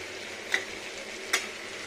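Arum and mixed vegetables fry with a soft continuous sizzle, punctuated by two quick scraping stirs of a spoon against the pan.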